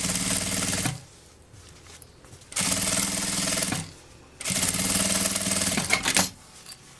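A sewing machine stitches the fabric lining of a small bag in three loud, rapid bursts, each about a second or two long, separated by short quiet pauses.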